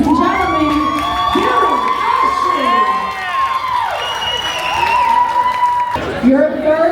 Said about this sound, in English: let's take a time to applaud our pageant director